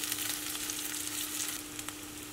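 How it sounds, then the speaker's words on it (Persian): Meat sizzles in butter in a frying pan while making homemade döner kebab, a steady close crackling hiss with occasional stirring clicks and no talking. "یه قاشق غذاخوری کره میریزین کف مایتابه و به این صورت شروع به سرخ کردن"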